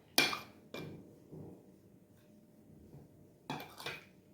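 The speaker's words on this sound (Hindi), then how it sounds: "इसको मैं अच्छी तरीके से पहले मिक्स करूँगा" Pakora batter ingredients are stirred in a bowl with a utensil, producing a few sharp clinks and scrapes against the bowl with quiet pauses between them.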